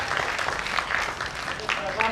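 A theatre audience at a stage comedy play applauds as a steady, dense wash of clapping that holds at an even level, with a voice speaking over it.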